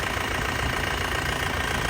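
The engine of a 2002 Isuzu Panther LS idles with a steady, even diesel rumble, close to the microphone and continuous throughout.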